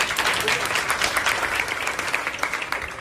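Students in a physics class clap for a classmate who gave a good answer, a dense burst of many hands applauding nearby, steady and fairly loud, with faint voices mixed underneath.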